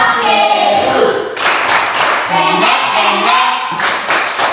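A group of pupils in a classroom claps their hands in rhythmic bursts, with voices chanting or singing along between and over the claps, close and loud throughout.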